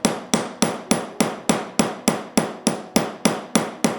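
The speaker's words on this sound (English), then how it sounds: "You just saw me hammering on the Pocket Master in solid silver." Steady metallic hammer strikes on solid silver pen parts in a workshop, about three per second, a dozen sharp ringing blows close up with no talking.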